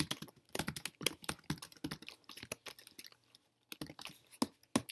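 Fingers type rapidly on a computer keyboard, including presses of the backspace key, producing close, crisp clusters of clicking keystrokes with short pauses between bursts.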